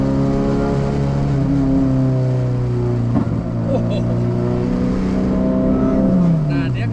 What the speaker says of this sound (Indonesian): Blap blap, ada ledakan-ledakan di knalpot